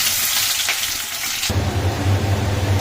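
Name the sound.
onions frying in a pan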